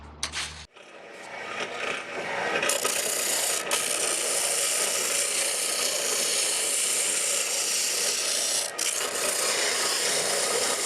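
Hand saw cutting wood for a mandolin in a workshop, a steady rasping stroke that runs almost continuously after a brief opening knock, with a couple of short breaks.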